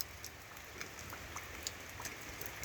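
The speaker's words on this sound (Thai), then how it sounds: "เจ้านั่นฝนมันตก" Rain falls in a faint, steady hiss with scattered soft drips and patters ticking against a surface nearby, quiet and without voices.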